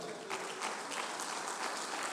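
Congregation clapping during a church service led by Pastor Rogério Bernardi, an even, moderately loud patter of many hands that continues without pause, no voices standing out.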